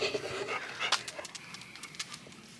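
A dog pants close by in quick, rhythmic breaths, fairly soft and steady across the short stretch, with no talking over it.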